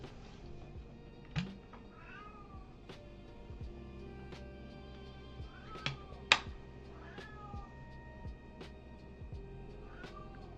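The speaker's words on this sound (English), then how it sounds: "Why are you meowing? Stop meowing." A cat meows repeatedly, short rising and falling cries spaced through the clip over a steady low background hum, fairly close.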